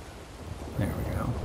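A thunderstorm rumbles in the Wild West video game Red Dead Online, a low rolling swell of thunder building toward the end over a backdrop of rain.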